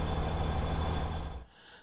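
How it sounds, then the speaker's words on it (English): A train rolling along in the video game Train Simulator 2015, a steady rumbling run with a faint high whine that fades out abruptly near the end, with no talking. "The train is already moving."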